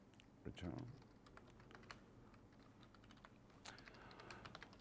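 Keys clatter on a computer keyboard in a steady run of close, crisp clicks while someone codes a Java Spring Boot class, with a brief louder knock near the start and a faint low murmur underneath.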